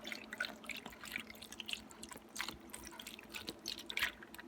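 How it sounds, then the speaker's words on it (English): Beef broth poured around a brisket in a slow cooker for a Hungarian holiday recipe, a soft continuous trickle and splash of liquid with faint dripping, quiet and close. "I'm going to go ahead and just pour it around here"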